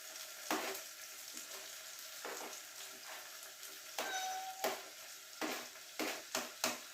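Spring onions and garlic fry in a pan, a soft steady sizzle with repeated scraping stirs and light clicks of a utensil against the pan, quiet and close.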